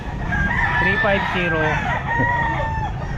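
Chickens and roosters cluck and crow continuously at a busy pet market, one rooster's crow rising clearly over the loud flock while someone speaks briefly nearby.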